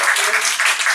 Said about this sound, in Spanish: le damos un aplauso a Mónica